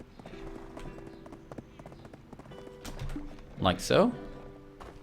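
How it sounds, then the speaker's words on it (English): Donkey mount's hooves trotting in Black Desert Online, a light rhythmic clip-clop under someone talking, with a brief louder flurry of hoof or movement noise near the end. "So I can trot him back over to the stable."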